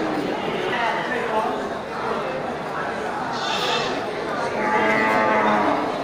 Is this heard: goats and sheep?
yes